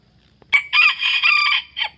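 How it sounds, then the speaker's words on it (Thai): An eight-month-old straw-coloured fighting rooster crows close by, a short sharp note leading into a long loud wavering crow, followed by a brief final call, with no other sounds around it. "เหมือนจะขันให้ FC ฟังครับผม"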